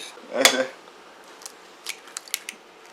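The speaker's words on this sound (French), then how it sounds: "Je commence par battre mes œufs." Eggs beaten in a bowl for ravioli dough give one sharp clatter, then after a pause a quick run of light metallic clicks against the bowl.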